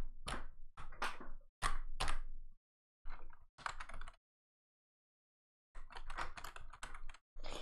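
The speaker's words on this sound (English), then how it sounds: "You're probably hearing lots of clicking to my keyboard like that." Computer keyboard keys clatter in quick bursts of close typing, broken by short silent pauses, with no voices.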